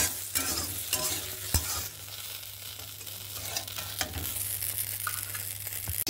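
Vegetables frying in an oil-filled kadai (wok), a steady close-up sizzle with occasional stirring scrapes and clinks, continuous throughout without talk.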